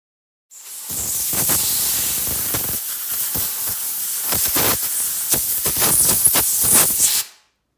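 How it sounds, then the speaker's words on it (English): An air compressor's nozzle blasts a loud, steady hiss of air across a turned driftwood bowl to clear sawdust, with uneven puffs and gusts for about seven seconds before cutting off. "I used the air compressor to get rid of most of the sawdust left behind by the bugs or the worms."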